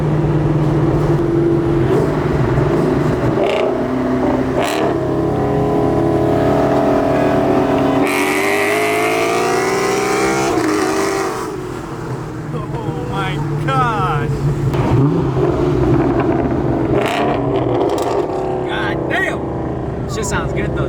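A Ford Cobra's engine rumbles and revs while driving, loud and close throughout, with a rising pull in the middle, while people talk over it.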